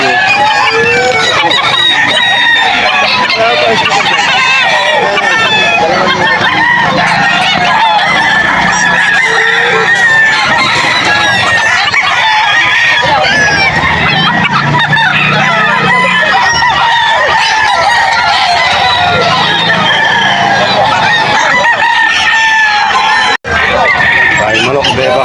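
Many chickens cluck and squawk while roosters and bullstags crow repeatedly at a poultry market in Bocaue, Bulacan, a dense, busy flock sound with voices talking underneath.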